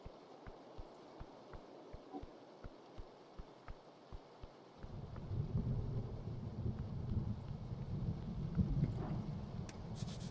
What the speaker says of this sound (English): The storm calls to me.